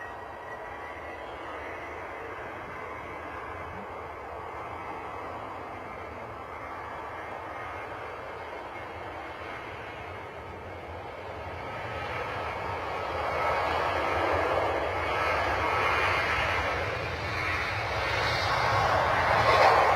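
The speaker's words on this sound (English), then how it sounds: "Right, I'll bring you this next takeoff" A jet aircraft takes off at London Stansted Airport, its distant engine roar building gradually and growing louder and harsher over twenty seconds. No voices are heard.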